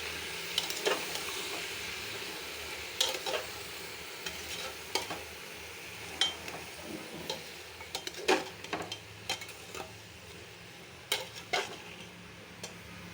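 Vegetables and meat fry together in a pan, with steady low sizzling broken by repeated sharp scrapes and clinks of a spatula stirring, close and fairly quiet, with no talking.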